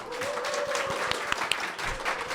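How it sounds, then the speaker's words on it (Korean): An audience at a book talk in a Mapo community venue applauds to open the event, giving moderate, continuous clapping with a few sharper individual claps and a voice faintly audible through it. "여러분들의 뜨거운 박수로 시작하도록 하겠습니다"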